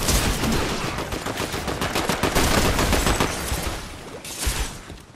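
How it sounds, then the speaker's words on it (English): Rifle gunfire in the Fortnite video game, a loud dense burst of rapid shots sustained for several seconds, with a brief pause and a final volley at the end. "So that's a rifle, it's not a sniper."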